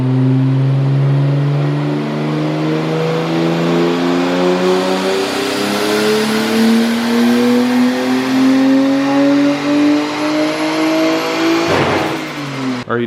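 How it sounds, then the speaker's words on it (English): A 240SX with a 1JZ engine and a new BorgWarner turbo revs loudly and steadily up close, its engine note climbing in pitch over several seconds before a sharp burst near the end. "installing a turbo on John's S13"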